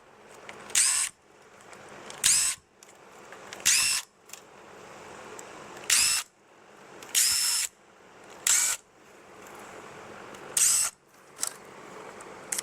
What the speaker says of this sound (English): This is just a simple countersink bit on a cordless drill.